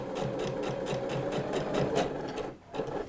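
A sewing machine stitches a curved seam on a dress, a close, steady rapid rattle of needle strokes with a brief pause before it resumes.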